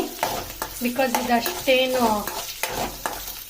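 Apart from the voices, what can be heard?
frying onion and chilli in a pan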